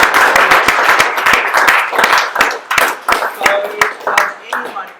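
A crowd at a live talk or seminar breaks into applause, dense overlapping hand claps ringing out steadily for several seconds before thinning toward the end, with some voices mixed in.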